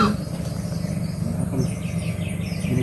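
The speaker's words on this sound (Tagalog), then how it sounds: "Kung narinig niyo yung huni ng ibon na yun" A bird calls in a forest, its thin, faint chirps rising in the second half over a steady, rushing background hiss.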